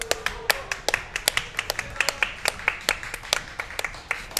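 An audience at a Guilty Gear Strive top 8 tournament at an Akihabara arcade claps for a player named Noah: close, sharp, fairly quick handclaps, a small group clapping loosely in rhythm for several seconds.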